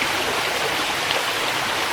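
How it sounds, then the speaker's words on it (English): Steady, continuous rush of stream water flowing and splashing upstream, a close, even broadband wash with no voices over it. "Splishy splashy's going on upstream. But it isn't anything. It's just the water going."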